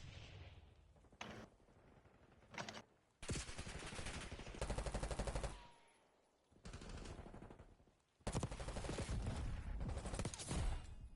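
Gunfire in the video game Black Ops 6 during ranked play, loud bursts of rapid automatic shots broken by brief pauses, dense and close, with no talk over it.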